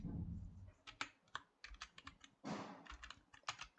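Keys clacking on a computer keyboard as a name is typed, quiet, irregular bursts of taps with short pauses between them, no voices.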